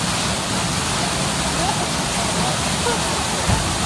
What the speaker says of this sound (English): Get ready for the water splash.